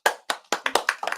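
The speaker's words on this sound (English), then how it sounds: "How about a round of applause," Scattered applause from a small school-event audience after the Port Jervis High School Odyssey of the Mind team is introduced, about eight separate claps in an irregular rhythm that fade out quickly, with no talking.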